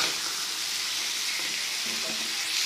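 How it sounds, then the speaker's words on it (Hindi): Mutton liver fries with spices on a tawa in a steady, close sizzle that holds level throughout, with faint stirring scrapes near the end and no voices. "अभी इसको भुनेंगे हम थोड़ा सा। मसालों को अच्छा सा मिक्स करेंगे"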